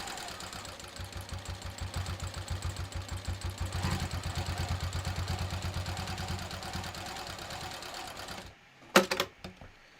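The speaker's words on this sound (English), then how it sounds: "to reinforce it, we're just going to sew just outside the first seam" A sewing machine stitches a second reinforcing seam just outside the first on a road trip wallet, its needle chattering in a steady fast rhythm for over eight seconds, then stopping before a couple of sharp handling clunks.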